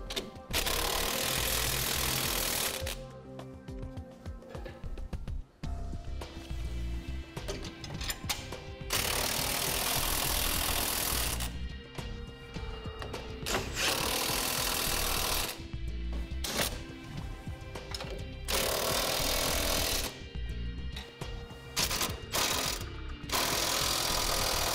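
Power tool tightening the bolts of a Curt front-mount trailer hitch receiver, loud mechanical whirring and rattling bursts that start and stop in several long runs with short pauses between.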